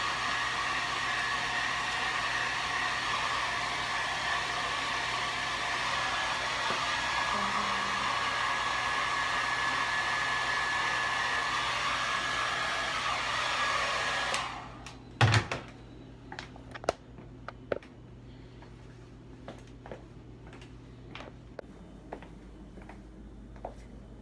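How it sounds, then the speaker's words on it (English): Hair dryer blowing on shoes to stretch them, a loud steady whoosh for about fourteen seconds that then cuts off, followed by a few thumps and light handling knocks. "We have our hairdryer. And again, just kind of bending and drying"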